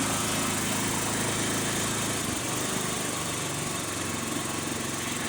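A Honda lawn tractor engine runs steadily and fairly close, a constant droning hum with no noticeable change in speed and no voices.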